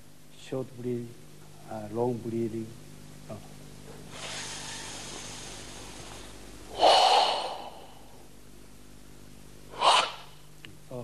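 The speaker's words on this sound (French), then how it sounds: "la respiration sonore, à l'inspiration comme à l'expiration, permet de vérifier si l'exécutant effectue correctement ces techniques." Forceful, audible karate breathing from Okinawan masters, sharp snorting exhales and drawn-in breaths in distinct loud bursts, following a short stretch of speech.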